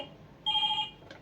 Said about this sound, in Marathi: अनु आत्याला फोन लाव, विचार कुठपर्यंत आली आत्या.